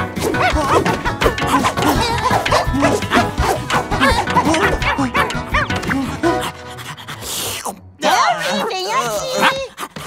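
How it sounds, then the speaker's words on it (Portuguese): A dog pants and barks excitedly amid lively chatter, with sharp yips and a brief crash partway through. "Um cachorro?"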